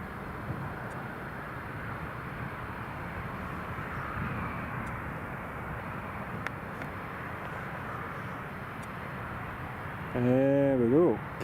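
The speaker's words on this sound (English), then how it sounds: "Jet2 taxiing in." Jet2 aircraft taxiing in at Newcastle International Airport, heard as a steady distant engine drone with a broad rumble that holds evenly throughout, and a brief louder tonal burst near the end.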